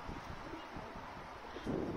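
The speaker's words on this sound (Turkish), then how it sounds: "Lan rüzgar geçiyor." Low, steady rumbling wind buffets the microphone throughout, growing a little stronger near the end.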